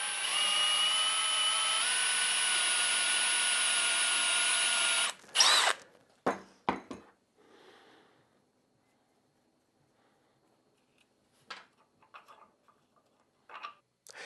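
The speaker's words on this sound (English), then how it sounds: "We'll find the center and we'll drill a hole right down there." A power drill whirs steadily for about five seconds, then stops with a few clunks and faint ticks as the work settles into near silence.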